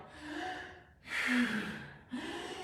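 Three heavy, breathy gasps in quick succession, a voice imitating hard panting, close and loud with short pauses between.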